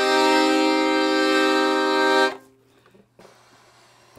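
A bright, reedy Parrot Cassowary single-reed solo alto accordion holds sustained chords for about two seconds, then stops, followed by faint bellows and key clicks.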